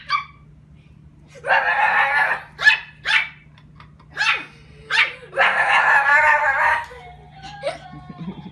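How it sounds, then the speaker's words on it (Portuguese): A playful dog barks in several bursts, some long and rough, others short and yippy, with low growls between them, close and loud over a steady low hum. "Latindo assim, andando, vai."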